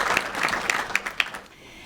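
Applause from the room at a school board meeting, a crowd clapping briskly with a few crisp individual claps standing out, then thinning and fading away toward the end.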